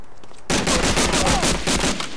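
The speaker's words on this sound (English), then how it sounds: "Who the hell is shooting at me?" Machine gun fire in the WWII shooter game Medal of Honor: Allied Assault erupts abruptly after a quiet half second and continues as a loud, rapid stream of shots to the end.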